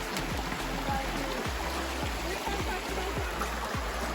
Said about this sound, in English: A lot of water today, so pretty.